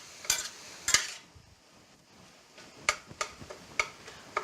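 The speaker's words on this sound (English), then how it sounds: "While the meat is browning nicely" Ground turkey browning in a pan with vegetables, stirred with a utensil: a few sharp scrapes and clicks against the pan over a faint low sizzle, quiet between strokes.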